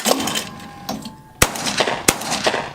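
A shotgun fired at clay skeet targets made to burst with an explosive effect: two sharp, loud broadband cracks about two-thirds of a second apart, set against outdoor background noise with no talk.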